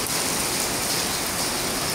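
Heavy rain pouring outdoors, a dense steady hiss of water striking surfaces, loud and unbroken with no voices over it.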